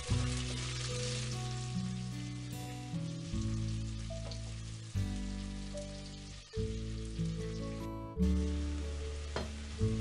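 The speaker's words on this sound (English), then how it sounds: "you just want to cook it down so it's just getting a slight tinge of colour on it" Onions sweat in a pan for parsnip soup, giving a continuous close crackling sizzle with a low steady hum underneath and brief shifts as they are stirred.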